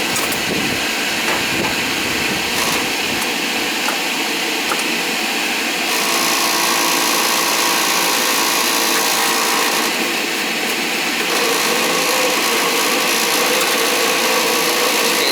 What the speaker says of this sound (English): Vibration happening. Probably got a bad motor fan.